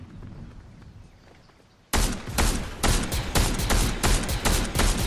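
Sudden volley of rapid gunfire in a Star Wars-themed video game, bursting in after a quiet stretch and continuing as a loud, dense stream of closely spaced shots.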